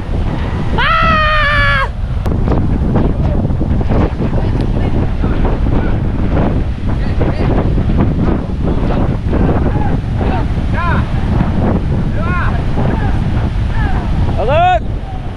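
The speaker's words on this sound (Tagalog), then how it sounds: "Lakas ng hangin." Strong typhoon wind roars and buffets the microphone continuously, with brief shouting voices over the gusts near the start and end.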